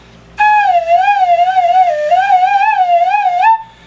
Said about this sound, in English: make a slide whistle